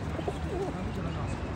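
A pigeon coos softly nearby, with low murmuring voices and steady background noise around it.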